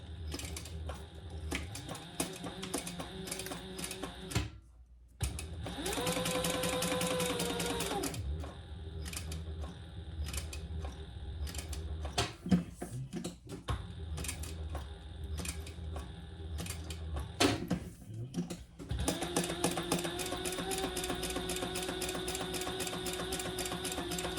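Sewing machine running fabric through at about a 3.5 inch stitch length, with steady mechanical chatter in several bursts separated by brief pauses and some clicks, plus a television playing faintly in the background.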